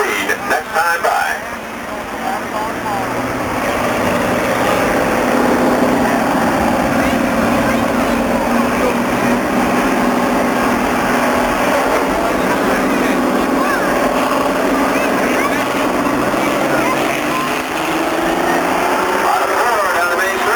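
Race cars accelerating in a figure 8 race at Flat Rock Speedway, a dense, loud engine drone from several cars that swells and sweeps in pitch as they pass, with a track announcer talking over it.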